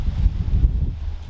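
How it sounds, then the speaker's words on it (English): Steady low wind rumble buffeting the microphone outdoors before a crossbow shot, continuous and fairly loud with gusty swells throughout. "It is kind of windy"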